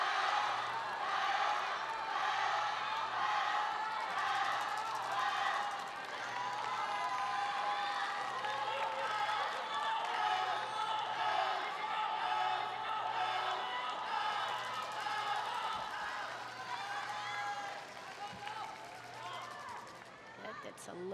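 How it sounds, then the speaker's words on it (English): A large stadium crowd at a world wushu championship men's jianshu event roars and cheers continuously as a competitor from China marches in, a dense sustained wash of voices with a steady tone underneath. "You can hear the stadium going wild."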